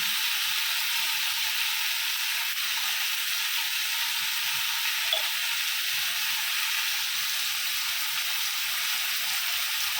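Whole spices tempering in hot oil for a vegetarian Bengali dish give a steady, even sizzle and hiss that carries unbroken through the whole stretch, close by and fairly loud, with no voices.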